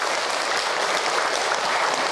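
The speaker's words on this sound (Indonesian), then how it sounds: "Tepuk tangan untuk beliau yang sudah bercerita." Steady, dense applause from a religious gathering's audience after a speaker finishes telling a story, sustained and even throughout with no talking over it.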